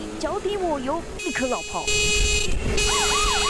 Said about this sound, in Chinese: 警方在后沿路鸣笛狂追